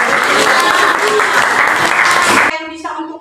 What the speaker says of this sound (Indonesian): Oke, berikan tepuk tangan.